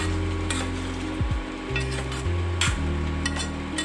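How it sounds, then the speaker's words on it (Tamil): Masala for Andhra-style Guntur chicken frying in a pan, a constant sizzle under bright metallic stirring scrapes and a low steady hum, no one speaking. "மசாலா வாசனை போகிற அளவுக்கு நம்ம வந்து இதை நல்லா ஃப்ரை பண்ணி எடுத்துக்கலாம்"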